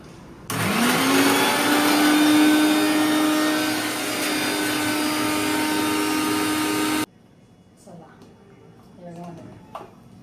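A mixer grinder whirs loudly, grinding onion masala with a little added water for a spicy Agri-style mutton curry; the steady motor drone runs for about six seconds and then cuts off abruptly, leaving a quiet kitchen with faint clatter.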